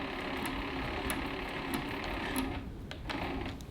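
A long arm sewing machine stitches a pocket shopper tote with a steady, close mechanical whir and rapid needle chatter throughout, brief light clicks near the end.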